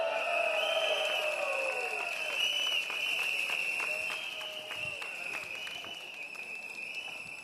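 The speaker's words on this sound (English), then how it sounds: "give yourselves a round of applause" Rally crowd at a Singapore Democratic Party election meeting in Sembawang West during GE2025, a steady wash of applause and cheering with scattered whistles that stays loud throughout, easing slightly toward the end.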